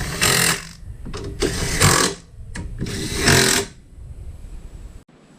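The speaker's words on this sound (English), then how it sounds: "Once that's in place, go ahead and tighten them down." Power tool or ratchet bursts tightening the bolts of a car battery hold-down bracket, three loud broadband runs of a few tenths of a second each, separated by short pauses, ending with quieter shop background.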